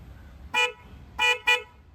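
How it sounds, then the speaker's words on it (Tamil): A car horn fitted on a Benelli TNT 300 motorcycle honks three short times, one beep then a quick double toot, loud and near against a quiet background. "கார் ஹாரன் போட்டு வச்சிருக்காரு"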